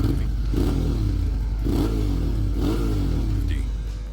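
A Suzuki V-Strom 650 V-twin motorcycle engine revs in several rising surges, loud and close, with a steady low rumble between the bursts and no one speaking.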